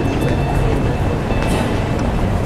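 A Singapore MRT train at a busy station gives a steady, loud rumble of rolling rail noise with a faint high whine, continuous throughout with no talk.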